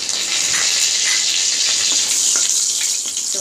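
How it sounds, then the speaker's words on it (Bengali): Cumin powder and three dried chillies fry in hot oil for a Bangladeshi chickpea dal with egg, giving a loud, continuous, close hiss and crackle. No one speaks. "একটু হালকা একটু ভেজে নেব"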